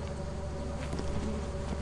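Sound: electric bees buzzing from a beehive in Lethal Company video game

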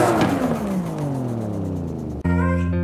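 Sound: 900hp 1998 Toyota Supra drift car engine revving

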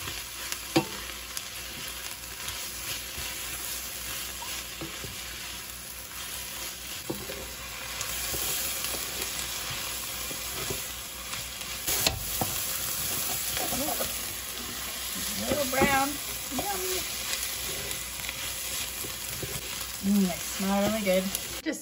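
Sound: ground beef frying in a pan

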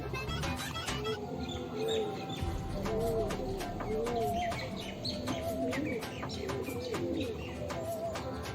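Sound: pigeons cooing while bathing

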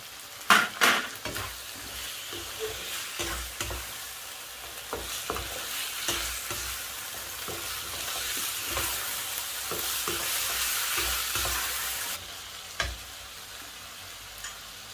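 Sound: stir-frying shrimp with sator beans in a pan

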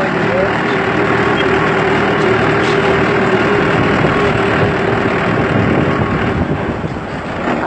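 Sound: tractor engine running slowly with hand throttle

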